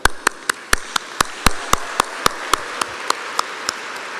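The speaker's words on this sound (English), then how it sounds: "so now we can applaud" Applause at a gala evening, heard as sharp, evenly spaced single claps, about four per second, ringing loud and close with a slight echo and no voices.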